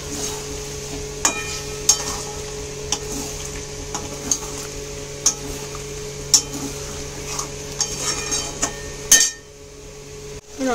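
Chicken with spice paste is sautéed in a pan: a low, steady sizzle runs under regular sharp taps and clinks of a spatula against the pan, then goes quiet shortly before the end.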